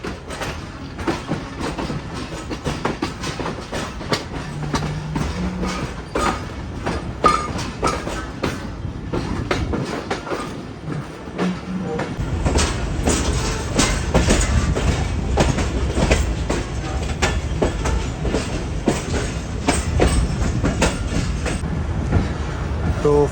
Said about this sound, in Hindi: खानेवाल जंक्शन रेलवे स्टेशन के मेन प्लेटफॉर्म यानी प्लेटफॉर्म नंबर 1 पर अप्रोच बना रही है हमारी ट्रेन